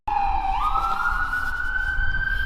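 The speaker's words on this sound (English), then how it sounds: "Ambulance is coming." An ambulance siren wails steadily and loudly, a single sustained tone that holds then climbs slightly in pitch, continuous for the whole stretch with no talking.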